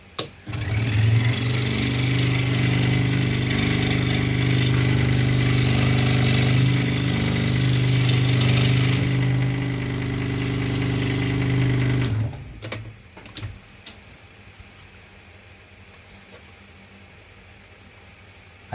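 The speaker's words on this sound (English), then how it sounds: "I'm doing something called scroll sawing" A scroll saw runs while cutting a wooden picture, its loud, even motor buzz and blade chatter holding steady for about twelve seconds before stopping, followed by quiet scattered clicks and knocks.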